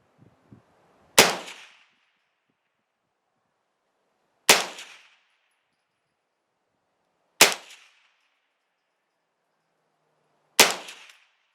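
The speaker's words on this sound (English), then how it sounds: "That's 5 rounds of stingers." Four sharp rifle shots ring out one at a time, about three seconds apart, as a CZ V-22 AR upper fires Stinger rimfire rounds at an outdoor range, each crack loud and close with a short fading tail.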